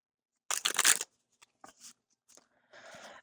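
Tarot cards are shuffled in one quick riffle, followed by a few faint taps and a softer rustling shuffle, all close up in an otherwise quiet room.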